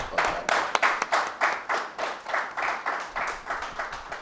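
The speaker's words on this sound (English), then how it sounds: "we need to applaud her on that" Steady rhythmic clapping from a gathered audience honouring a leader, roughly a dozen even beats at a regular pace, fairly close and without talk over it.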